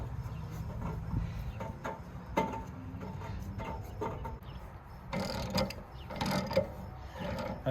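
An aluminum anode rod is tightened into a steel RV water heater tank, with quiet irregular ratcheting clicks and metallic scrapes, close and faint, with no talking.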